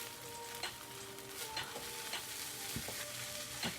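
Shrimp fried rice frying and sizzling in a pan on high heat, a steady crackling hiss with intermittent scrapes and stirring clatter from a utensil, close and moderately loud with no talking.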